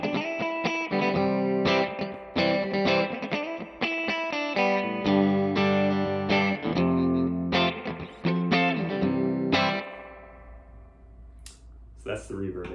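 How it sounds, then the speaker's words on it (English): Guitar chords played through a Heritage Victory combo amp with its reverb cranked to maximum ring out in a dense, splashy wash, then a final chord decays into a long shimmering tail. "That's the reverb in here."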